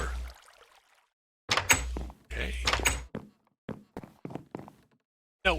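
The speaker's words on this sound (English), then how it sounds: "Open the door." A wooden door opens in Minecraft SkyFactory with a short hollow creak-thunk, followed by a series of quick clicking footstep and block sounds in separate bursts, with stretches of silence between them.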